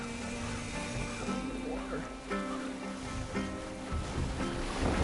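Viking longship sailing on open water in Assassin's Creed Valhalla, with steady surf and wind washing around the hull, accompanied by a crew's sung chant and music running throughout.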